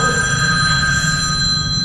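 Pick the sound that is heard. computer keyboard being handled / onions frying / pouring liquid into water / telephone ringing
telephone ringing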